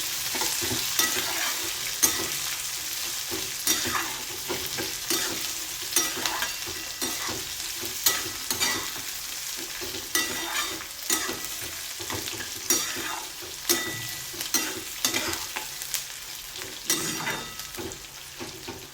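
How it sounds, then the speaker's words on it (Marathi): Peanuts and onion sautéing in a pan for buttermilk sooji upma, with a steady close sizzle broken by repeated scraping stirs at an uneven rhythm, no voices. "शेंगदाणे कांदा चांगला परतून घेऊया."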